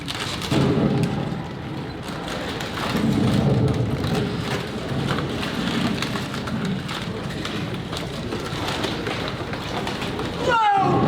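Stage storm effect of steady heavy rain with low rumbling thunder throughout, a sharp crack near the end, produced for a theatre performance of King Lear.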